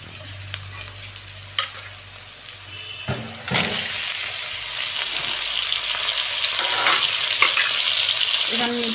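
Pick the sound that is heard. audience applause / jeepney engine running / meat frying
meat frying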